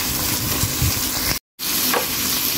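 Two small cut potatoes fry in a pan, a loud continuous sizzle with faint stirring, briefly cut off by a moment of total silence before the hiss resumes.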